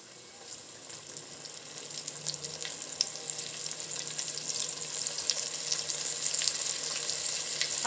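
Steady sizzling and crackling of large chicken wings frying in hot oil, a continuous bright hiss that grows slightly louder, with no talking.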